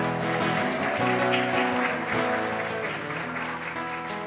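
Congregation applauding at a Catholic rosary gathering, sustained loud clapping blended with music playing throughout.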